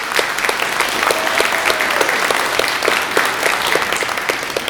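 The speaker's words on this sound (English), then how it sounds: "I'd like to give a warm round of applause to Silas" A school concert audience applauds warmly, a steady wash of many hands clapping at close range, loud and sustained throughout.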